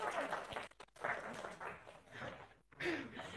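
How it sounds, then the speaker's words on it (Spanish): An audience at a tech launch event applauds, the clapping rising and falling in short bursts with brief gaps and a little laughter mixed in. "¡Aplausos!"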